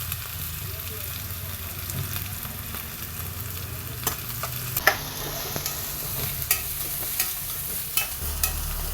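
Crushed garlic and ginger fry in hot oil with onion for a pepper curry, giving a steady close sizzle broken by frequent sharp spatula clicks and scrapes against the pan.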